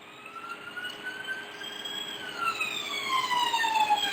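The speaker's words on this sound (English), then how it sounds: "I think that's definitely an ambulance siren." An ambulance siren wails through an open window as it passes outside, its rising and falling tone steadily growing louder over a few seconds, with no talking.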